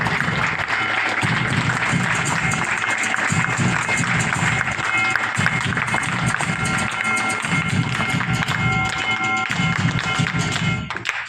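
A school audience claps for prize-winning children at a primary school prize-giving, a dense, steady, loud patter of many hands that runs the whole time, with faint voices in the crowd.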